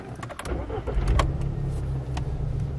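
A VW/Audi car engine cranks and catches, then settles into a steady low idle rumble, close and fairly loud, with a few faint clicks and knocks over the top.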